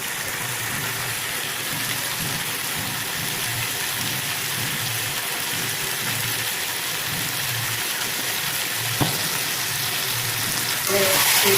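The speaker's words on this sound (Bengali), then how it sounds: "সব ভালো করে কষাবো" Marinated chicken sautéing in a pan for home-made chicken biryani, a steady low sizzle and crackle running throughout with a brief sharp knock near the end.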